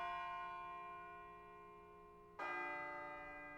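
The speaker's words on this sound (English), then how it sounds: "It sounds like a bell, but where's it coming from?" A bell tolls in the Persona 3 Portable video game, a sustained ringing tone that slowly fades before a second clear strike rings out and begins to decay, faint and resonant with no voices.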